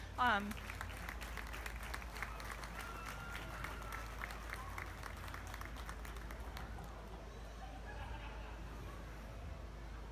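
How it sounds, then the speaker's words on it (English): A crowd gives dairy show junior exhibitors and youth a big round of applause, with dense clapping for about seven seconds that fades to scattered claps, joined by background chatter and a voice in the mix. "let's give all the juniors, the exhibitors, and youth a big round of applause"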